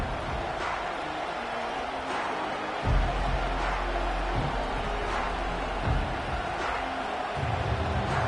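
Steady stadium crowd roar from a college football video game fills the background, a broad, constant wash of cheering with occasional low rumbles and no commentary over it.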